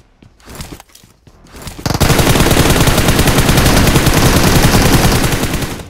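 Sustained automatic gunfire from a BGMI / PUBG Mobile battle, a loud rapid burst of shots that starts after a couple of quieter seconds and runs continuously to the end.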